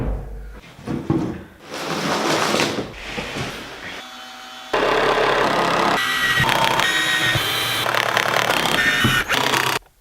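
A masonite sheet being screwed down onto a wooden skateboard ramp, with loud whirring power-driver bursts and mechanical clatter that stop and start, then a long sustained run ending abruptly.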